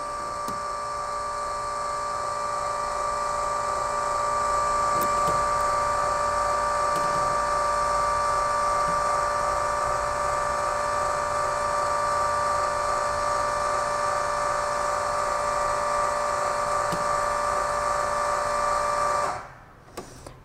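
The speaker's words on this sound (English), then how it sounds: "And now is the motor is running." The motor of a whole-house water softener runs with a steady, tonal electric whine and hum, close and constant for most of the time before cutting off abruptly near the end, with no talk over it.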